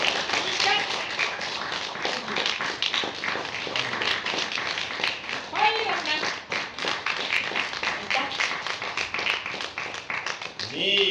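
Applause from a theatre festival audience keeps going as a steady patter of clapping hands, with voices talking and calling over it throughout.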